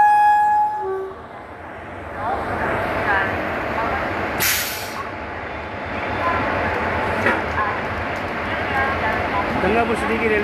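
A train pulls out of Gangapur City railway station, with a long train horn at first, then rumbling wagons, a brief hiss of air brakes and a busy platform with voices in the background.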